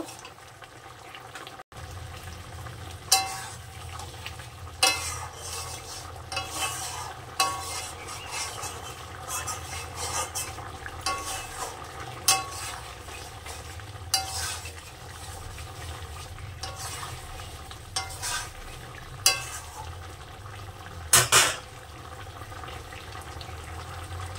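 Banana-flower curry with poppy seeds simmering in a pan, a soft continuous bubbling and watery churn with scattered sharp clicks and taps of utensils against the pan throughout.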